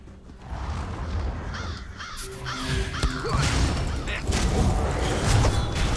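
Crows caw repeatedly in the Elder Scrolls Online Summerset expansion. Several harsh calls rise over dense, rumbling game ambience and clattering effects, fairly loud and close.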